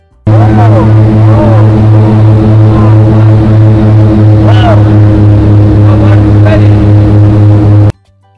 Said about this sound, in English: You might hear a lot of loud noise that's coming from the propeller of the helicopter